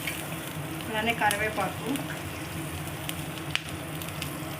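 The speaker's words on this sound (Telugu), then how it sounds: "అన్నీ బాగా ఫ్రై అవ్వాలి" Cashews, green chillies and curry leaves fry in a pan for jeera rice, a steady close sizzle with brief stirring scrapes while someone speaks briefly over it.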